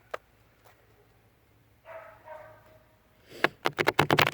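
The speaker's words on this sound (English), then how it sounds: "Told you, dog's gonna start barking because I'm out here." A dog barks outdoors on a cold night, first a few faint single yaps, then a rapid burst of loud, close barks in quick succession at the end.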